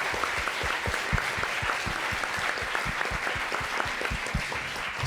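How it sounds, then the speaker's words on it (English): Sustained audience applause for a panel at a design symposium's lunchtime talks, dense steady clapping from a full room lasting throughout with no voices. "I just want to give a huge round of applause for this amazing group of people."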